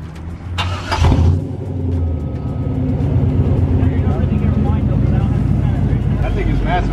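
At an outdoor holiday car meet, a car engine cranks and catches with a sharp burst, then settles into a deep, steady rumbling idle close by while people talk over it.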